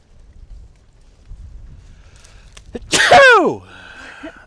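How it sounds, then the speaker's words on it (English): A loud, sharp sneeze bursts out after a stretch of quiet rustling, followed by a brief high squeak or whine. "I gotta sneeze again."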